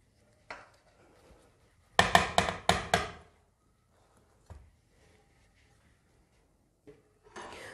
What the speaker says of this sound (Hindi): अब इसको डिश आउट करते हैं